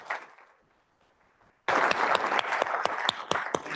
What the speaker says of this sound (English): Can we get a round of applause for the team?